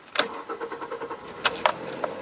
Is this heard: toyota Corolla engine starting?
yes